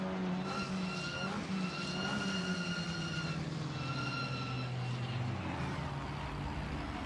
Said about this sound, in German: Jetzt macht er den Motor an und fährt einfach rückwärts auf die Strecke